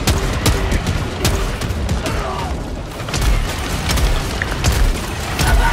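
An incendiary mine going off in Helldivers 2 amid a steady fusillade of gunfire and booms, loud and continuous throughout with repeated sharp blasts layered over a dense battle din.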